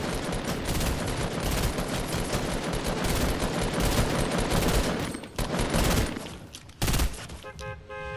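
Rapid, sustained bursts of Infamas assault rifle fire in Fortnite, loud and close, rattling almost continuously with a couple of brief pauses near the end.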